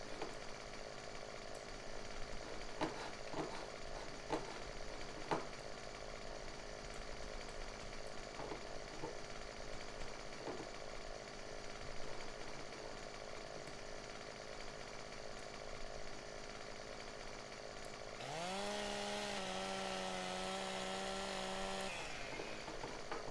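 A chainsaw cuts into a tree in the farming video game Landwirtschafts-Simulator 15, revving up loudly for about four seconds near the end after a long stretch of steady in-game background hum.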